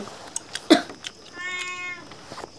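A cat meows inside a small house, several short calls followed by a longer clear tonal meow, fairly close but modest in level, with faint voices and small background noises around it.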